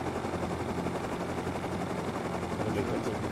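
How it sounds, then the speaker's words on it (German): Helicopter arriving in the survival game Rust, a continuous, dense rotor-and-engine roar at a steady level with faint gunfire-like crackle mixed in. "Ich dachte, da kommt jetzt ein Heli, Alter."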